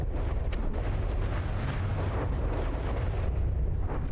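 Missile exploding on impact in the video game From the Depths, a dense continuous roar of booming blasts and crackling bursts, steady and fairly loud throughout, with no talking.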